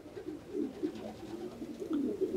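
Racing pigeons in a loft coo close by in soft, low, rolling phrases, several overlapping calls repeating over a quiet background.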